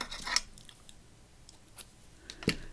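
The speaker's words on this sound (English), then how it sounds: "There we go, just cut that" Scissors snip through paper while making an accordion book page, a few faint cuts with a sharper snip near the end, heard alone and close.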